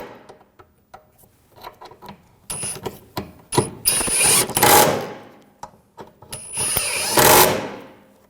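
A hand ratchet tightening bolts on the rear CV axle of a 2007-2013 BMW 328i 3.0L: sharp clicking strokes, sparse at first, then fast loud bursts of ratcheting up close.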